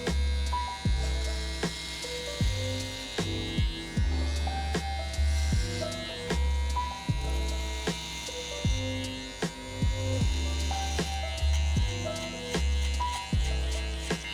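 Electric hair clippers with a 3-guard hum and buzz close up while blending a haircut, with the steady drone broken into short repeated strokes and no voices.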